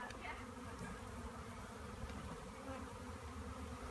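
A captured honeybee swarm hums in a dense, continuous buzz, loud and close throughout, as if the insects are being handled at arm's reach, with no talk over it.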